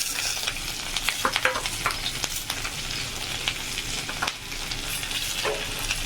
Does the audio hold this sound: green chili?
yes